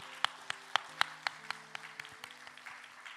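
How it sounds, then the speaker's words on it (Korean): A church congregation claps in a steady rhythm during a Sunday worship service, fairly quietly and at a distance, with sustained musical tones underneath. "우리 박수 한번 하겠습니다"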